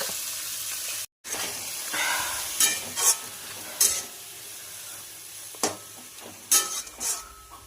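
Grass pea greens (teora shak) tossed into a frying pan and stirred, a steady sizzle under repeated scraping and clattering spatula strokes, close and moderately loud, with no one speaking.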